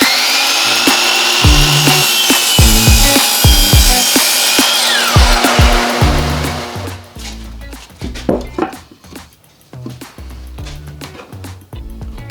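A power saw cuts a wooden board for a towel rack, a loud continuous whine for several seconds, then it stops and is followed by scattered knocks and handling noises of the wood and tool.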